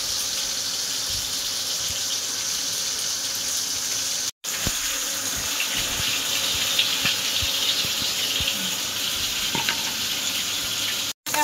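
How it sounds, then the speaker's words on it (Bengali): Pieces of fish, rohu and katla, frying in a pan give a steady, close sizzle and crackle. Two short breaks interrupt the hiss, which resumes at the same level each time. "ওদিকে মাছ ভাজা হচ্ছে"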